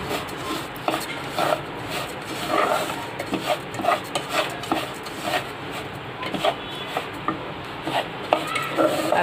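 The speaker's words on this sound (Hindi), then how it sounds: "इसमें मैं ये रवा ऐड करूँगी और धीमे आंच पे इसको घी में अच्छे से भून लेना है।" Semolina (rava) being stirred and roasted in ghee in a pan over low heat, giving a steady close scraping and rubbing texture with repeated utensil strokes against the pan.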